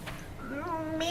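A man playfully imitates a cat's meow with his voice, a rising, drawn-out vocal whine in a close, dry setting, sounding more like a mock audition than a real cat.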